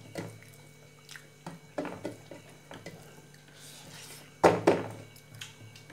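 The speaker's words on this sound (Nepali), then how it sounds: "उहाँको चाहिँ थाल बजाउने बानी छ।" A metal thali plate clanks and scrapes repeatedly as someone eats rajma and rice late at night, close irregular clinks with one louder clatter near the end.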